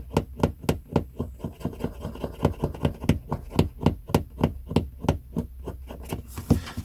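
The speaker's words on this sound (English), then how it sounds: "Let's see if I can scrape it off." Scraping a squashed bug off the cover of a vintage Penguin paperback, a rapid run of close, sharp scratching strokes in a steady rhythm, each stroke distinct, no talking.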